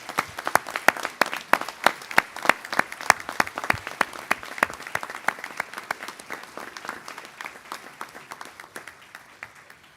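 A crowd at a graduation ceremony applauds the graduates, steady dense clapping for about ten seconds that slowly thins toward the end.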